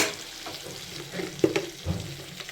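Green chillies and shahjeera fried in oil for butter chicken, a soft crackling sizzle with a few louder spits and stirring scrapes scattered across a short stretch.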